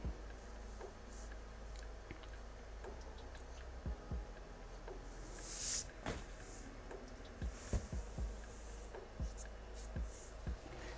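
Pencil or pen strokes scratch on paper while a Joker figure is sketched, faint scattered scratches and taps with quiet pauses between them, close by and soft.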